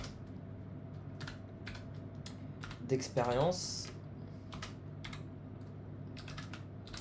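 Clicks of a computer keyboard in scattered bursts of typing, close and crisp, with a brief mechanical whir in the middle and a person speaking partway through.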